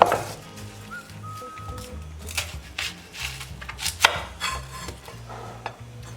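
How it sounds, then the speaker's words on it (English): Onions being sliced with a knife on a board for a leek and olive stew: irregular crisp cuts and taps, close and fairly quiet, with a low background hum and no talk. "The onions I'm just gonna slice."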